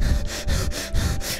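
Someone imitates heavy breathing up close, with four or five rhythmic, forceful huffing breaths in quick succession.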